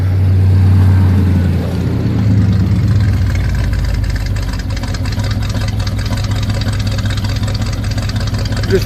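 A Chevy truck engine idles after a cold start at 25 degrees, giving a steady, loud low rumble that runs the whole time with a slight settling of the tone after the first few seconds.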